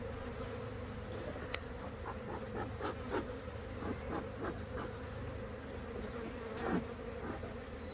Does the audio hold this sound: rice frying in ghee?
no